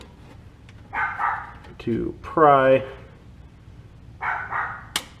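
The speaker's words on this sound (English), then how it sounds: "Oh, there goes the dog." A dog barks at close range indoors, a quick burst of several sharp barks landing between stretches of someone talking.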